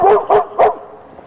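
An Afghan hound gives three loud, close barks in quick succession, each sharp and evenly spaced, followed by a faint trailing whimper.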